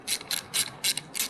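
A ratchet loosening a 30 mm Torx bolt on a Ferrari gives five quick bursts of bright clicking, evenly spaced and close up, with no talk.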